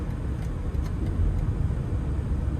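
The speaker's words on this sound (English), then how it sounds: "So starting the test drive in this BMW iX here, pretty swift in the sport mode." A BMW iX electric SUV driving swiftly in sport mode, a steady low road and tyre rumble inside the cabin, fairly loud and continuous with no talk.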